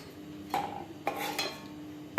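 Guava leaf thokku with chilli powder is stirred in a pan, giving two or three quick scraping strokes that are soft, close and otherwise quiet.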